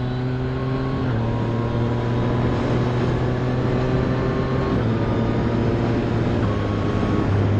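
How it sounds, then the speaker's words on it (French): A Yamaha XSR motorcycle fitted with an Akrapovic carbon exhaust line rides along at an easy pace, its engine note steady and close with a few gear-change steps in pitch, loud and continuous with no talking. "Donc avec la ligne Akrapovic carbone, ça chante très bien."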